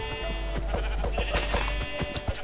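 Sheep bleat in a Minecraft-style island map called Skylandia: one clear bleat rises over a low hum, surrounded by a steady patter of short clicks and footsteps.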